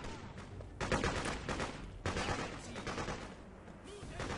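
Gunfire in the Freedom Fighters game: several sharp bursts of shots and rapid volleys at moderate loudness, with someone talking between them.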